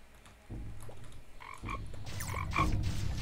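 A frog croaks in the Roblox game Bee Swarm Simulator, a few short, close calls in quick succession over a low, steady game background hum.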